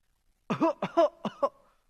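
A few harsh, throaty coughs in quick succession, close and fairly loud, each short burst separated by brief pauses.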